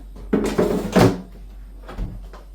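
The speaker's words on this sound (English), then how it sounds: "We'll pop it in the air fryer." Salmon seasoned with salt goes into an air fryer, with a few close thunks and clatters like a basket or drawer being opened and shut, followed by a quieter knock near the end.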